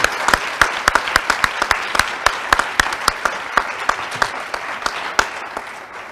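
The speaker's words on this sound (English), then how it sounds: "can we all just give our inductees and our alum, Robert, a big round of applause" An audience at a cum laude honors ceremony applauds inductees and an alumnus with loud, rapid clapping. Close, sharp claps ride over a dense crowd wash across six seconds, easing slightly at the end, with no voices.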